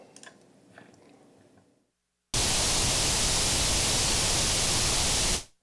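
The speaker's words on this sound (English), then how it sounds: "But this is actually pink noise." Ungated pink noise in a studio mixing session, a loud, even burst of broadband hiss lasting about three seconds after a brief silence, preceded by some quieter sounds.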